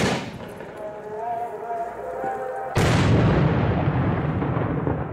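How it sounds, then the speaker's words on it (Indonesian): Firecrackers set off during Ramadan in Turkey, one sudden loud bang partway through followed by a long rumbling, hissing tail, heard under a faint background of voices. "cuma sekarang nggak pakai meriam, tapi mereka pakai petasan gitu guys"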